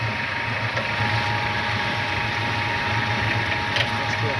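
An HM 200U pellet mill granulator runs with its motor humming steadily, a constant mid-low mechanical drone with faint rattling, close and loud throughout, no talk over it.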